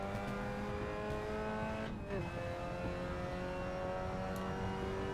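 A Mazda MX-5 NB Cup Edition stripped for racing in the Assetto Corsa racing game, its engine droning steadily with a gear change partway through, while a voice talks over it.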